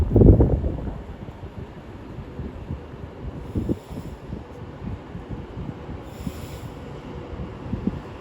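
An Avanti West Coast Class 390 train pulls out of Watford Junction on the West Coast Main Line, heard as a low, rumbling rolling roar with a heavy thump at the start and faint squeals higher up, fairly distant.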